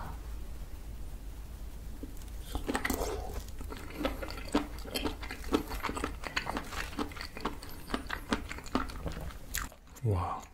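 Spicy mala-seasoned mushrooms are bitten and chewed close up in a mukbang, with repeated wet crunches and squishy chews in an irregular rhythm, loud and intimate.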